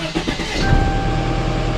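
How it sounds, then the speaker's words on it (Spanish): A Toyota Corolla with a wooden adaptation fitted inside turns over and catches, and a brief crank gives way to a steady, loud idle that holds close by. No one speaks. "me gustaría enseñarles cómo es que se prende el Corolita"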